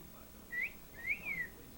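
A woman whistles two short, clear, rising-and-falling notes in a bird-like style she learned from a pet bird, faint against quiet background noise.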